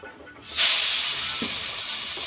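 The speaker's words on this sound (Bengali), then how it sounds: "এবার চিকেন স্কিনটাকে কড়াইতে দিয়ে দেবো" Chicken skin is dropped into a hot wok with dried red chili tempering and gives a sudden loud hiss that carries on as a steady, bright sizzle close to the microphone, with no voices.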